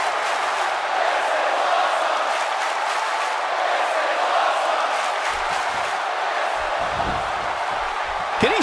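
Video game arena crowd in WWE 2K18 roaring and cheering through a Kalisto, Rusev and Duke Nukem triple threat match, a dense sustained roar with a few whoops and low thuds near the end.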